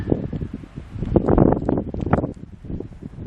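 Gusty wind on Frijole Ridge buffets the microphone with rough, rumbling bursts that rise and fall, loud and close, with no voices.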